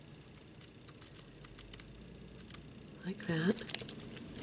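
Small scissors snip excess material from a shabby chic stocking ornament, a few light, quick cuts up close, while a person speaks briefly.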